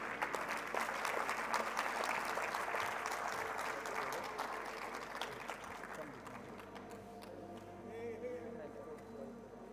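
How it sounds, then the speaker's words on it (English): An audience at a COP28 Trade Day event on critical minerals and the energy transition applauds, a faint, steady patter that fades over several seconds while a voice talks beneath it. "Can we give them a nice round of applause as well?"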